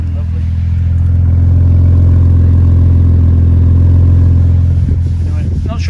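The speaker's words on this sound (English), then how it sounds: "It's also got a lovely meaty exhaust note." A BMW Z4 engine running with a deep, meaty exhaust note, a loud close-up steady rumble that swells slightly and holds, with a faint clatter near the end.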